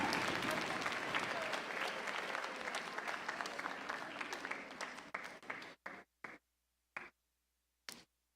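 An audience applauds at the closing ceremonies of the USA Chidon HaTanach national Bible quiz finals. Dense, steady clapping fills the hall, then thins into a few scattered, isolated claps before stopping.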